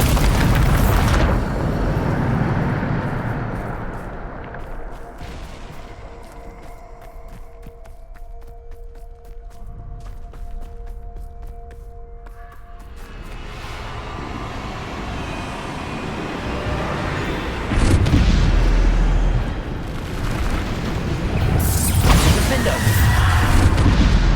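In the video game Hogwarts Legacy, Bombarda spell blasts go off as heavy, rumbling booms that open the passage, ease into a quieter stretch, then return with more loud eruptions near the end, with voices during the fight.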